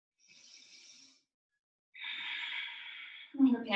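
During a vinyasa yoga practice, a soft inhale is followed by a longer, deeper exhale, both close and quiet, and a voice begins speaking right at the end.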